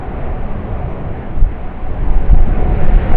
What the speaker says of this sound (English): 787-8 departing runway 25.